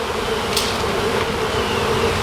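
Bees buzzing steadily in a mass inside a shed floor, a continuous close drone with no talk.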